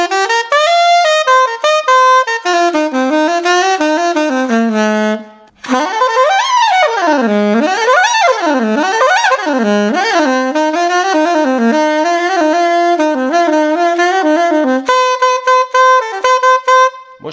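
Soprano saxophone by Jean-Paul USA playing a melodic line, loud and close, with sustained nasal notes, a brief pause near the middle, then rapid swooping runs and bends before settling on held tones.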